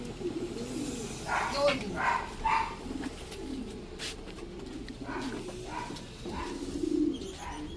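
Racing pigeons coo repeatedly in a low, rolling rhythm as they arrive at the loft after a race release at Gumaca, Quezon, while people talk nearby and a dog is faintly heard.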